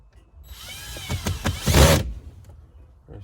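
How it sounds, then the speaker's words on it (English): A screw is driven in with a ratcheting tool during a car alarm installation under the dash, giving a short rising whir of clicks and grinding for about a second and a half, near and fairly loud. "Just screw it in."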